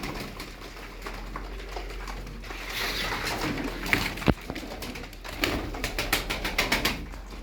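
Game pigeons in a loft give soft, intermittent coos amid rustling and a few sharp taps and flutters, moderately quiet and close.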